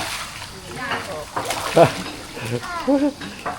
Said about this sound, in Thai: ตอนนี้พากันลงน้ำแล้ว